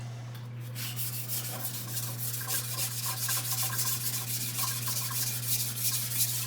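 A kitchen knife without a bolster drawn in long, rhythmic strokes across a whetstone, a steady gritty scraping repeated in quick succession over a low constant hum.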